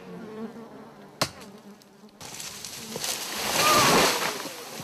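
Bees buzz loudly and close around a wild hive being smoked out by a honey hunter, the droning swell rising after a sharp knock and peaking near the end.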